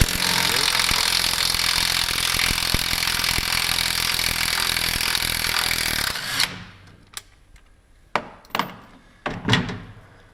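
A loud, sustained power-tool whir removing 15mm bolts from a Polaris Pro RMK snowmobile's gear drive, cutting off abruptly and followed by several sharp metallic clanks and knocks of parts being handled.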